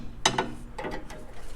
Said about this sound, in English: Helps to have a wobble end ratchet too if you got one